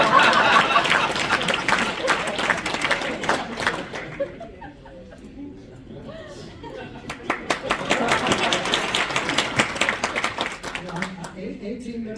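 Audience at a Kennesaw Business Association event breaks into clapping mixed with chatter and chuckles, loud at first, dipping into a quieter lull midway, then swelling again with dense claps before trailing off.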